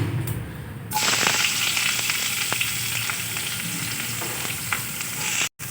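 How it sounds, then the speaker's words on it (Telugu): Three sliced onions hit hot oil with cardamom, and a loud, close, steady sizzle bursts up after a brief quieter moment, then holds dense and unbroken until it cuts off at the end. "ఇప్పుడు ఉల్లిపాయ వేస్తున్నానండి"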